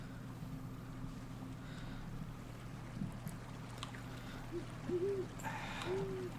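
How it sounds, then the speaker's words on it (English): A few soft owl hoots rise late in a quiet Colossal Cave Reimagined game scene, faint and spaced apart over a low steady ambient hum. "Listen, it's an owl."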